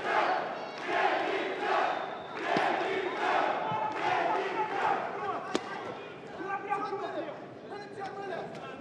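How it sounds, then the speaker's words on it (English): Boxing arena crowd at an FEA Legacy fight cheering and roaring as round three begins, a dense continuous wall of voices with swelling shouts, heard close and loud throughout with no clear words. "Listen to this crowd."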